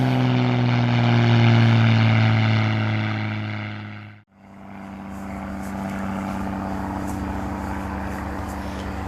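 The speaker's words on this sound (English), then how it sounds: "There's an airplane over." A propeller airplane drones overhead above a cemetery, a loud steady engine hum that briefly cuts out and then resumes at a slightly lower, continuing level.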